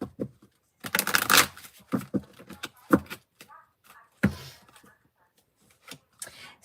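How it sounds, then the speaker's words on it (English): A deck of tarot cards is shuffled by hand in close, irregular bursts of riffling and slapping, with quiet gaps between, and no talk over it. "give them a good shuffle"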